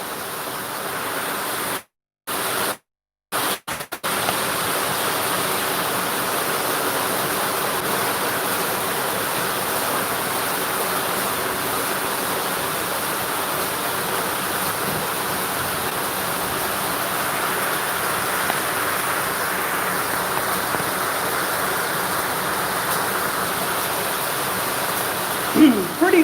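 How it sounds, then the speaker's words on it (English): Heavy rain drums steadily on a metal shipping container being built into a home, a dense, loud, continuous hiss and patter filling the space, with a couple of brief dropouts near the start. "It's pretty loud in here with the rain hitting the container."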